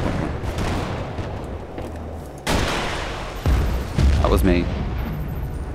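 Rocket fire and explosions in the video game Battlefield: Bad Company 2 sound as heavy booms and blasts over constant battle noise, with a louder burst midway and a player talking.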